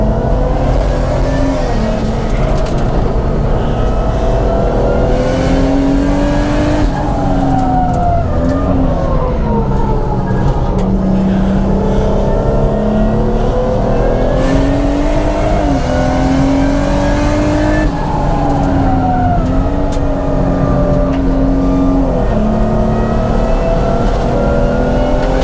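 A 500 hp Audi A5 with a turbocharged VR6 engine runs hard on a race track. Its loud, continuous engine note climbs and falls with each gear and throttle change, close and unbroken for the whole stretch.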